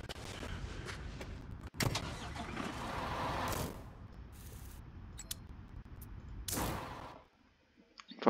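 Construction vehicle driving in the video game Bau-Simulator, a low engine rumble with several loud whooshing swells and mechanical clicks, falling nearly silent near the end.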